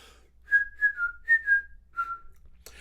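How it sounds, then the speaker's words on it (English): A few short, clear whistled notes from the mouth, close and fairly soft, in a loose uneven rhythm with small pitch slides. "I'll be teaching you how to tweet or whistle with your mouth"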